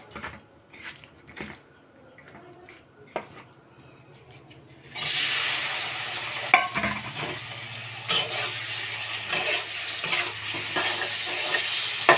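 Prawns fry lightly in soybean oil in a hot kadai; after a few quiet clicks and taps, a steady bright sizzle rises suddenly and continues with scattered pops and crackles, fairly close, with no talking.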